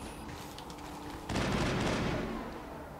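Video game gunfire in Mass Effect, a sustained burst of rapid shots starting midway and rolling on loud and dense until the end, after a quieter stretch of lighter game noise.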